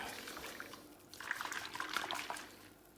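Liquid swirls and sloshes as a homebrew yeast starter is stirred, a soft watery churning that grows busier halfway through, quiet and close with no voices.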